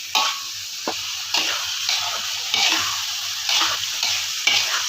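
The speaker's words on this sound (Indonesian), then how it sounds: "jangan lupa kita masukkan ayamnya ya teman-teman ya, seperti ini ya. Lalu kita tumis-tumis kembali seperti ini ya" Chicken stir-fried in a pan for sambal ayam mangga: a steady, close sizzle with repeated scraping and stirring strokes of a spatula, with no talking.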